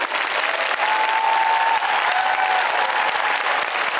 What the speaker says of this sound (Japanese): さあ会場の皆さん、今一度大きな拍手でお見送りください。